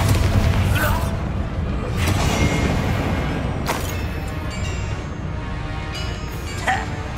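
A Bombarda spell explodes in the video game Hogwarts Legacy. Deep booming blasts rise out of a dense, rumbling battle soundscape, with several sharp hits spread across it.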